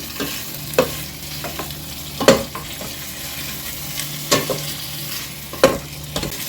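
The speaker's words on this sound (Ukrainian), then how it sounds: "смажу на великому вогні" Smoked pork cheek fries on high heat, clattering in a hot pan, with scattered scrapes and stirring knocks over a steady low sizzle.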